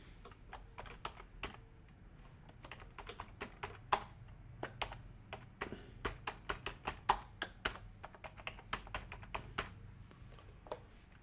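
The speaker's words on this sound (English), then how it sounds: "So I type in inverse head and shoulders." Someone types on a computer keyboard in quick, uneven bursts of key clicks. The clicking is close but quiet, with short pauses between runs and no voices.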